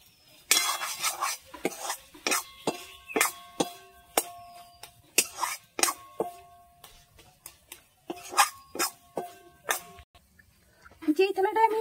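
A spoon scrapes and stirs thick kalakand sweet mixture in a metal pan, giving repeated sharp metallic strokes in a steady rhythm with brief pauses.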